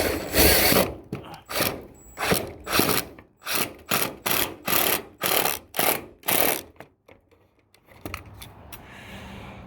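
A tool driving screws to fix gutter clips in place, a rapid series of loud ratcheting, whirring bursts in a steady rhythm, close by, trailing off into quieter handling noise at the end.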